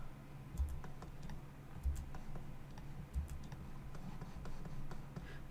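Computer keyboard tapped for shortcuts while modelling in 3ds Max, sparse quiet key clicks with a few heavier thumps, close and soft over a low hum.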